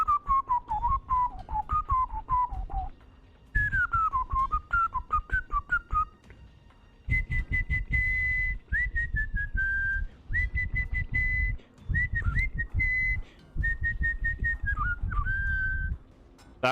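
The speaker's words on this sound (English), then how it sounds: "I hope that whistling wasn't loud." A person whistles a melody in phrases, bright sliding and held notes with brief pauses between runs, close and clear over a low rumbling background.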